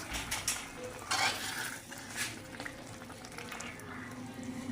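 Tuna in coconut milk is stirred in a pot over a wood fire, giving a low bubbling simmer with a few soft scrapes and clinks near the start, quiet and close, with no talking.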